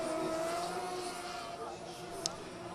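Juha Rintanen's drift car sounds at a distance, a revving engine whine fading under commentary, with a brief sharp tick near the end.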